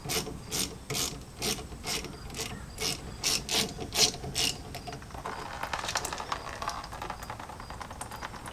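A ratchet loosens a 9/16 banjo bolt on the brake caliper of a Jeep XJ, with about ten quick, close clicking bursts in a steady rhythm that give way to lighter scraping and rubbing.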